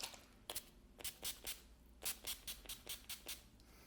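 A spray bottle misting hair product onto hair, a run of about a dozen short, quiet hissing pumps in an irregular rhythm, close up and alone.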